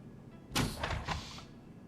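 A door in an office slides open in the video game Shadowrun Hong Kong, a quick mechanical whoosh with a couple of swells that fades out over about a second against a quiet background.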